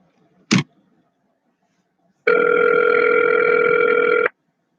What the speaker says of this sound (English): Press the ring button and put it on speakerphone.